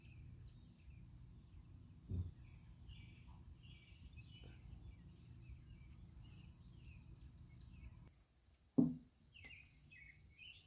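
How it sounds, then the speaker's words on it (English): Crickets chirp in a faint, steady high trill against a quiet outdoor background, with a couple of soft thumps. "I hear crickets."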